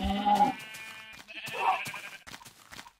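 Minecraft sheep bleat in a couple of short, clear calls with gaps of quiet between them, no talking.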